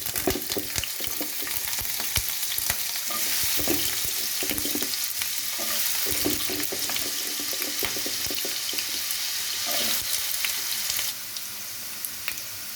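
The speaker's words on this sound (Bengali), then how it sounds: "তেলটা গরম হয়ে গেছে, এবার আমি এর মধ্যে ডুমো ডুমো করে কেটে রাখা আলুগুলো ছেড়ে দেবো।" Diced potatoes fry in hot mustard oil in a kadai, a loud, continuous crackling sizzle with irregular clatters and spits that eases slightly toward the end, with no voices.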